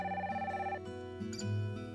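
A telephone rings in a home setting, a bright repeating electronic ring tone heard up close, followed by lower murmuring sounds, with no clear talk.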